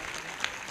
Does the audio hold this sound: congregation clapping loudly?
yes